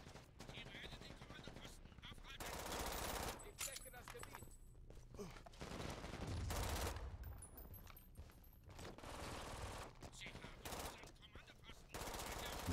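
A mounted gun firing in the shooter game Brink, bursts of rapid automatic fire mixed with other gunshots in a busy battle, with a player talking over it.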